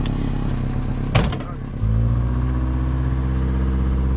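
A 1986 Ford Mustang Fox body 4-cylinder coupe with a 4-speed manual rolls into a garage, its mid-pitched engine idling steadily after a clunk and a brief dip, loud and close.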